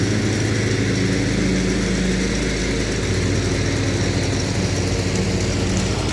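A lawn mower engine runs loud and close, its steady motor drone holding unbroken throughout with no pauses or voices.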